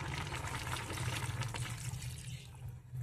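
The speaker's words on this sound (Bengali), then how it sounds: "দিয়ে দেবো জল" Water is poured into a pan of shingi fish curry with softened ridge gourd, giving a steady close splashing pour for about two and a half seconds before it fades out.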